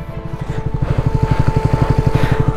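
A motorcycle engine loud and close on an adventure ride from India to Nepal, its belly scraping over a large pothole, with a steady rapid pulsing throb running throughout and no voices.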